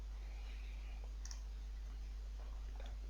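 A few faint, sharp mouse clicks on Apply and OK buttons sound over a steady low electrical hum, spaced apart with quiet between them.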